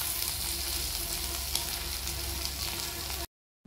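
Drumsticks and potatoes fry in oil, a steady fairly quiet sizzling crackle heard close, continuous until it cuts off abruptly near the end.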